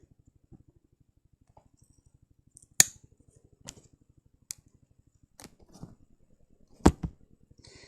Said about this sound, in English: And find the spot where it's starting to bend down a bit. And then you cut there.